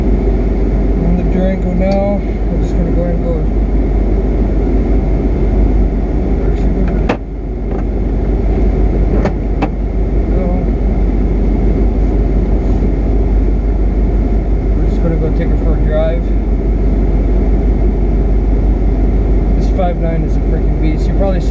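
A 2000 Dodge Durango drives along with a steady, loud low engine and road rumble filling the cabin, with a brief dip partway through and occasional speech over the drone.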